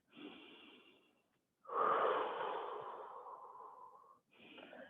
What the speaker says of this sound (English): Just take 3 deep breaths here.